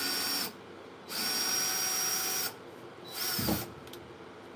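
Power drill driving screws into a wooden beehive box, two separate whining bursts of a second or more each with a brief pause between, close and clear with no talk.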